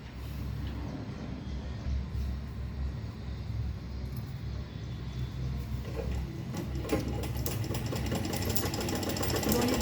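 A sewing machine stitches along the side of a heart-shaped fabric purse, running with a steady, close mechanical whirr and rapid ticking that grows slightly louder toward the end.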